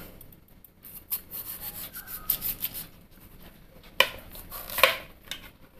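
A knife cuts through peeled chow chow (chayote) on a board with scraping, rubbing strokes, followed by a couple of sharper knocks near the end, close up with no talking.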